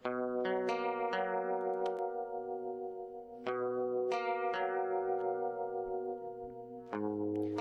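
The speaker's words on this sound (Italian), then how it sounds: "un delay così breve e soprattutto senza feedback, senza ripetizione, sì, questo effetto serve per creare una sorta di spazializzazione" Guitar run through a very short 18.5 ms delay with no feedback or repeats, panned right for a sense of space: several plucked notes and chords ringing out with quick decays, close and prominent, no voices.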